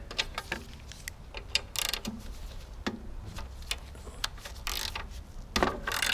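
A ratchet spanner clicks in quick bursts while bolts are loosened on a Briggs and Stratton engine, with metallic taps and scrapes between the bursts, close and fairly quiet, with no talking.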